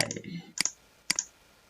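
A computer mouse gives two crisp, quiet clicks about half a second apart, just after a brief voice.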